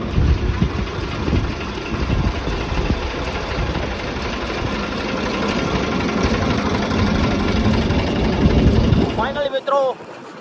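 A tractor engine idles steadily on a farm with a low rumbling drone throughout, speech murmuring over it, before the motor cuts out near the end.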